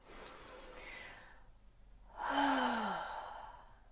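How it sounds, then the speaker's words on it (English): A slow breath drawn in through the nose during a calming breathing exercise, a soft airy inhale followed by a louder, fuller rush of breath, close and alone without speech. "Breathe in through the nose."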